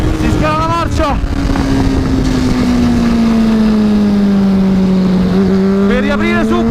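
A race car at Vallelunga brakes into a corner, its engine note falling steadily as it downshifts with quick blips of revs, loud and close with wind buffeting, and someone talks over it.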